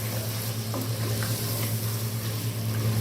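Fried potatoes and fried eggplant go into a hot pan for aloo baingan, giving a steady, loud sizzle with a low hum beneath and a few soft clinks, no voices.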